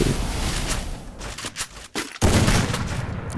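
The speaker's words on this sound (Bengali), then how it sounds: "আরে কই ফায়ার করছে, আরেকটা শট আরেকটা শট" Gunfire from the mobile battle-royale game Free Fire during a round with an AWM sniper rifle, a loud, dense burst of shots with brief gaps and a sharp blast near the end.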